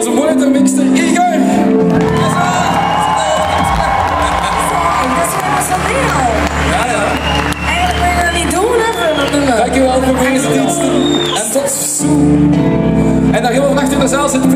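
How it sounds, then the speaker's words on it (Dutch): Loud concert crowd at a show in Brugge, cheering and shouting with scattered whoops and clapping in a dense, continuous roar that holds steady throughout. "Dus maak een heel groot applaus."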